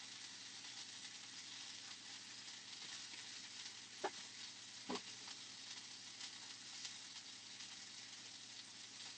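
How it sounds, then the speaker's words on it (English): An egg frying in an egg toaster gives off a faint, steady sizzle that runs throughout, broken by two brief soft clicks near the middle. "So I'm going to crack the egg and pop this in my egg toaster."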